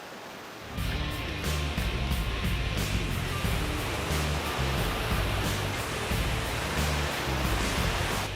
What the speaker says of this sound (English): we're on a creek here.